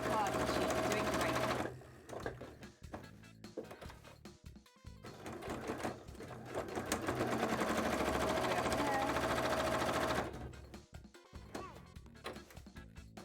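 A sewing machine stitches a cosplay costume in fast mechanical runs, loud and near, pausing briefly and restarting with a long stretch of continuous whirring and clacking.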